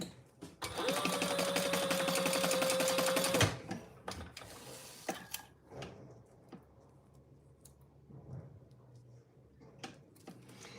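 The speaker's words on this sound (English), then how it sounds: "Stitch across the bottom." A sewing machine stitches across the bottom of a trifold wallet in one loud, steady run of about three seconds, then stops, leaving quieter handling clicks and taps of the fabric.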